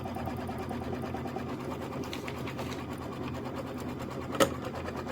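A sewing machine runs a quilting stitch on an autumn-themed quilt block in ginger thread, a steady rapid whir and needle patter going on without a break, with one brief sharper click near the end.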